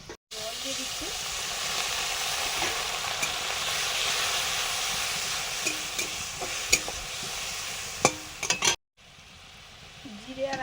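Ground spices with turmeric and chili powder sizzle and fry in a pan, a dense steady hiss broken by scraping stirs and occasional clicks, stopping abruptly near the end before a fainter sizzle resumes.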